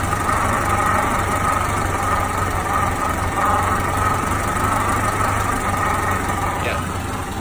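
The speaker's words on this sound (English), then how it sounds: "it's my timing belt rubbing on my cover" A Honda B16A3 engine idles steadily and evenly up close, its timing belt rubbing against the cover, with no pauses throughout.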